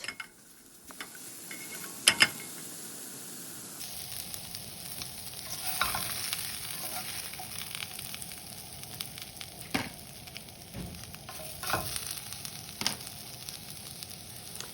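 Pre-cooked potatoes fry in a pan for a plant-based savory breakfast, a steady sizzle with scattered scrapes and clicks of stirring, fairly close and moderately loud throughout, with no talk.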